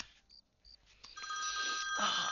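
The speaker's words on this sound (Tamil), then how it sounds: "டேய் கார்த்தி ஃபோன் பண்ணுறான்டா" A telephone rings with a repeating electronic ringtone, starting with short beeps and building to a sustained, fairly loud ring at close range, with no talk over it.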